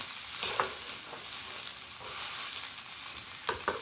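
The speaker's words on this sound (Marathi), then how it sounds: "आता याला पण व्यवस्थित मिक्स करून घेत आहे" Poha with squeezed lemon and grated coconut and cucumber being stirred in a pan, a steady soft scraping and light sizzle with a few sharper spoon clicks near the start and end, no talking.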